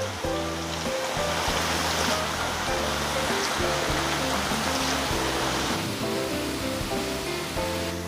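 Potatoes deep-frying while being stirred, sunk in plenty of hot oil for a crispy potato, tempeh and peanut snack, giving a loud, steady, close hiss and sizzle that runs unbroken throughout.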